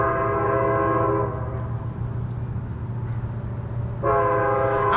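A train passes near a garden, its horn blaring in a long multi-tone chord that drops off, then sounds again loudly near the end over a steady rumble of wheels.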